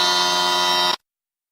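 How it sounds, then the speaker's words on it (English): An intercom buzzer at a building entrance sounds one loud, steady electric buzz for about a second, then cuts off abruptly into silence. "she pressed the buzzer and waited impatiently"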